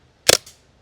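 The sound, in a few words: CO2 airgun shots with AAC-C1 M170 power chamber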